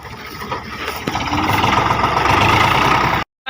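A tractor used to haul paddy runs nearby with a loud, steady idling rumble that builds slightly and then cuts off abruptly at the end.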